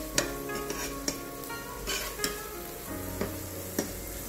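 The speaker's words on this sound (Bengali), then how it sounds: "সবগুলো কুচি একসাথে সামান্য ভেজে নিতে হবে।" Chopped onion, ginger, garlic and green chili fry in a pan under a loud, continuous sizzle, with periodic scrapes of a stirring utensil every half second or so and no voices.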